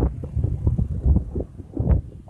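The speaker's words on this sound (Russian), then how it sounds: "Ветер." Outdoor wind in Goa buffets the microphone in uneven low rumbling gusts, swelling and dropping over a couple of seconds with no voices.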